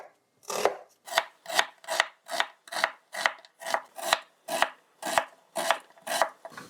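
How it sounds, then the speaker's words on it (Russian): Knife blade steadily chopping onion into medium pieces on a board, a dozen crisp, evenly spaced cuts close up, no voices. "Средними кусочками режу лук."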